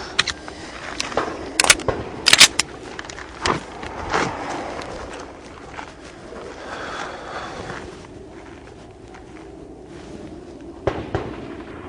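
Pistol shots ring out at a plate rack on a practical shooting range: a quick string of sharp, loud reports in the first four seconds, a quieter stretch, then one more crack near the end.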